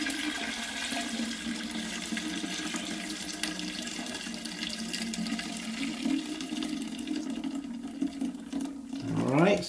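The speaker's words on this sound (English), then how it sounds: "Make sure I flush that." A toilet flushes away dirty mop water from cleaning residue-covered hardwood floors, a steady loud rush of water that ends in a swirling gurgle as the bowl drains.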